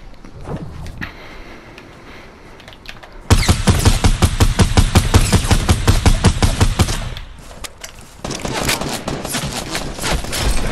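Rapid automatic gunfire bursts in the video game Fortnite, loud and dense for several seconds, then pausing before another stretch of shots; faint talk and game noise underneath.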